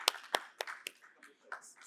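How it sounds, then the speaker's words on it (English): A few scattered hand claps come from an audience welcoming special guests at a bioenergy and hydrogen technology event. The claps are quiet and sparse, with a voice speaking between them. "Please give our special guests a very big round of applause, ladies and gentlemen."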